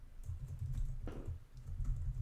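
A name is typed on a computer keyboard in a steady run of quiet key taps, faint and close under a low background hum.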